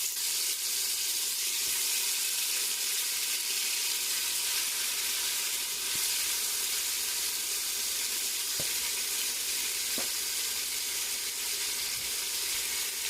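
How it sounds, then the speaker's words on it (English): Oxtail meat fries in a pan with a steady, close hiss of sizzling oil that continues evenly, broken by a few faint clicks and light stirring sounds, with no talking. "So just go ahead and fry this up a little bit."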